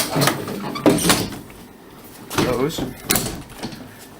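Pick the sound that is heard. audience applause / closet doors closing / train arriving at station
closet doors closing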